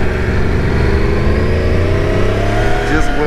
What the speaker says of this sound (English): Just scrubbing a little bit off of this rear tire and not doing too much.